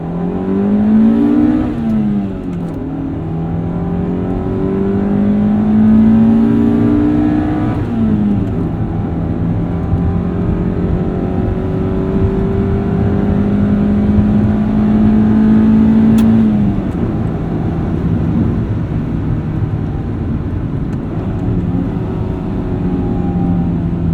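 A 1995 EJ Honda Civic Si engine revs up and down through downshifts, loud and close, with rising and falling engine pitch swooping between gears and short blips on each shift.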